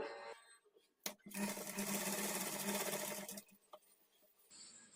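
A sewing machine stitches piping onto a blouse neck at a quarter-inch margin: a quiet, close run of fast, even needle whirring for about two seconds, then it stops, with light handling sounds around it.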